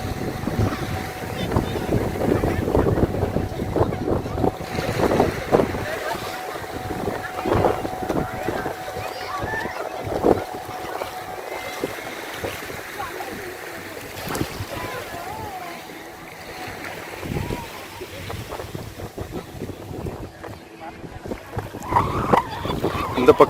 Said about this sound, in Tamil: Motor boat.